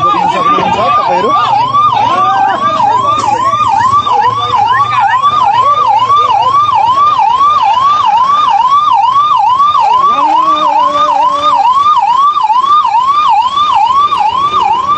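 An ambulance siren wails loudly and close by on an unfinished road in Kalaiya, rising and falling in a rapid repeating cycle for the whole stretch, with a brief horn-like tone partway through.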